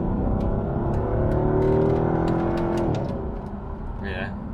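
A Jaguar XK8's engine droning and rising in revs inside the cabin as it is dropped into second gear, then settling back, with people talking over it.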